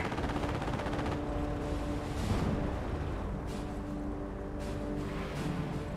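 Machine gun fire in the WWII strategy game Company of Heroes during a bridge defence battle, a continuous rattle of bursts over dense battle noise with distant booms.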